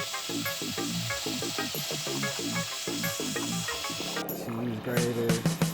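A cheese grater scraping across a thick Gobstomper sneaker sole, rapid rhythmic rasping strokes in quick repeated bursts, followed by a brief rougher scrape near the end, with speech present.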